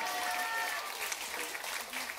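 An audience bursts into sustained applause at a star-themed geomungo concert after a traditional arts high school geomungo student is introduced, dense clapping filling the hall with faint traces of voices beneath.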